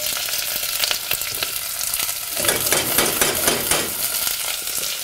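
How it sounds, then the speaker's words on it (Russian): Steady loud sizzling and crackling of cheese soup ingredients frying in a pot, with occasional stirring scrapes, close and continuous. "О, шкварчит."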